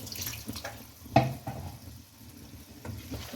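About two tablespoons of water are added to a mutton heart and liver masala, giving a sizzle and a few stirring scrapes and clinks with a sharper clatter midway, close and moderately quiet.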